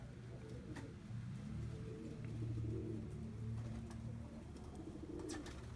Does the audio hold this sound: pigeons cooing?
yes